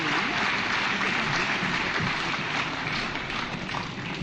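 An audience applauds at the burial ceremony of KDF General Francis Ogolla, a loud, continuous wash of clapping from a large outdoor crowd with no break.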